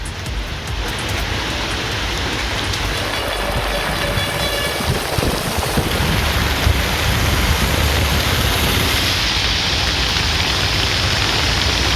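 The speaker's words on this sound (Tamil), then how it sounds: "திருப்பத்தூர் சுற்றுவட்டார பகுதிகளில் 1 மணி நேரத்திற்கும் மேலாக கனமழை வெளுத்து வாங்கியது" Heavy rain pouring over the Tiruppattur area of Sivaganga district in Tamil Nadu, a steady, dense wash of broadband noise that holds at an even loudness throughout, with no voices.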